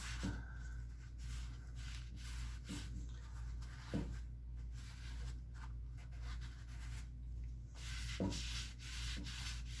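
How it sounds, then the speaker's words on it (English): Cloth rubbing Rubio Monocoat finish across a solid walnut sink, wiping off the excess along the grain: a steady, close dry rubbing hiss with a few soft knocks, no talk. "Right now I'm just wiping off the excess and almost moving the excess to any areas that need more at the same time."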